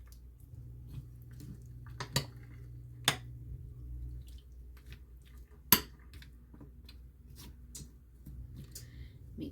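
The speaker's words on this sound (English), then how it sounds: "Give this a good mix." Chopped ham is stirred into cheese sauce and potatoes for scalloped potatoes: soft wet squishes with sparse spoon taps and clinks against the dish, quiet and close.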